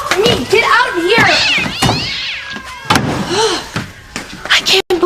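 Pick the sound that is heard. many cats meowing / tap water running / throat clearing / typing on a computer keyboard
many cats meowing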